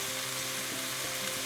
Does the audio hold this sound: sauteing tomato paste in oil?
yes